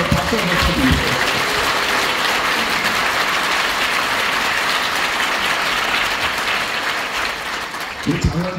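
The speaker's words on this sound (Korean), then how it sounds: "국토부 장관님께 시민의 힘을 모아서 박수 한번 쳐드립니다" Sustained audience applause in a public hall for South Korea's land ministry minister at a Seongnam civic event near Ori Station, dense steady clapping filling the whole stretch, with brief voices at the start and end.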